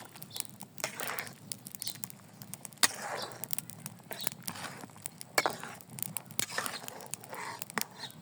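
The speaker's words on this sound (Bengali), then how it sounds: "বিরিয়ানির মশলা দিয়ে দিই। নাড়াচাড়া দিয়ে দিই।" Biryani being stirred with spices in a pot, a steady run of scraping and shuffling clatter with sharp spoon knocks against the metal, close and moderately loud with no talk.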